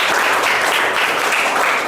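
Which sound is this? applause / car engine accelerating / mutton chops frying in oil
applause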